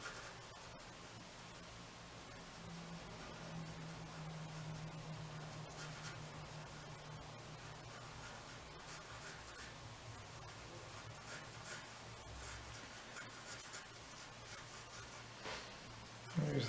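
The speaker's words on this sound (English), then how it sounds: "Just finish quickly sketching these feathers in." Pencil sketching hawk feathers on paper, a soft, continuous scratchy rubbing of graphite strokes, faint and close, with no talking.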